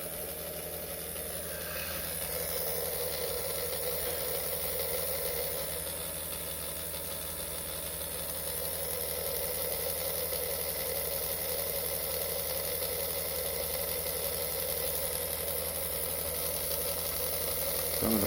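A tiny Bulldog HO slot car motor runs in, giving a steady, faint high electric whine and buzz that holds for the whole stretch with no pauses.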